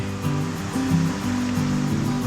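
Rushing water from a natural waterfall deep in a forest, a steady dense roar filling the whole clip with no voices over it.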